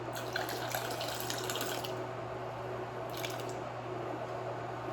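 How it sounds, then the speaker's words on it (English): Water is poured in and stirred into sourdough starter for a blueberry lemon loaf, giving close wet squishing and sloshing bursts over a steady low hum. "I usually add the water first and then I just kind of mix the starter with the water"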